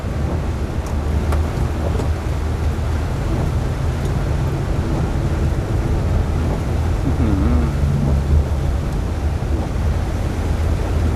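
Heavy rain drums on a car being driven through a downpour, a dense, constant roar with a low road rumble and a few brief, faint ticks of spray.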